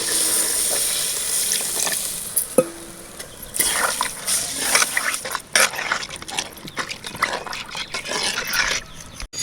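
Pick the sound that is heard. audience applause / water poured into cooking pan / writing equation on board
water poured into cooking pan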